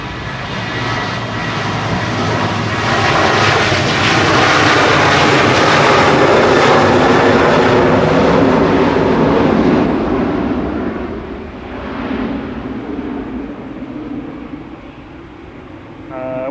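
A Ryanair jet departs Manchester Airport, its engine roar swelling into a loud, broad rumble that holds for several seconds, then slowly fades as it climbs away, with faint voices in the background.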